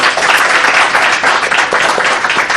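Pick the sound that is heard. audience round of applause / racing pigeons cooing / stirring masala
audience round of applause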